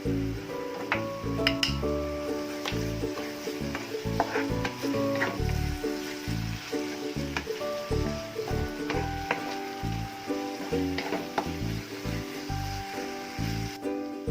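Vermicelli coconut prawn pulao being stirred in a pan, repeated scraping and knocking of a spoon against the metal over a light sizzle, in an irregular rhythm close up.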